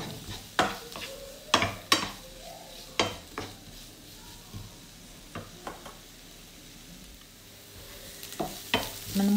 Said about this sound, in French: on va mettre une cuillère à soupe d'huile et on va y faire revenir l'oignon